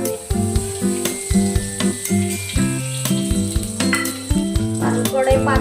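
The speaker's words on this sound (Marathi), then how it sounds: "त्याच्यामध्ये बटर टाकून घेऊया आपण थोडंसं, जास्त नाही. आणि लगेच तेल टाकूया" Butter and oil sizzle loudly in a hot, thin-walled wok, a constant crackling hiss close to the pan, with music playing underneath and no talk.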